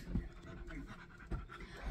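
A dog snores heavily with rough, rhythmic snorting breaths, close and fairly loud, repeating steadily with no one talking.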